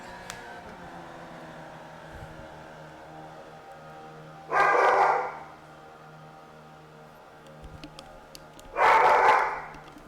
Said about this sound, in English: Y'all hear that bark and may think that he's a big, mean.